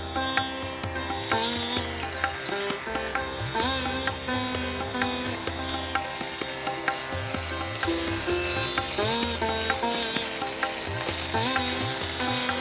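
Ginger paste frying in a hot pan, a continuous close sizzle with regular scrapes and clinks from stirring, alone with no talk.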